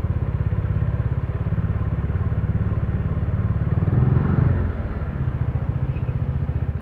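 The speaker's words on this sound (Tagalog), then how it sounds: "Meron pala akong motor sa likod." A motorcycle engine rumbles steadily with a fast, even pulsing throb that swells briefly midway before settling back, heard from the rider's position on a Cavite road.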